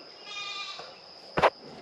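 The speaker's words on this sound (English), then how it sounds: "let's get these goats ready to be jumped in the trailer." Meat goats on a farm bleat while being readied for loading into a trailer; a drawn-out nasal bleat is followed by a short sharp clatter, close by against a steady background hum.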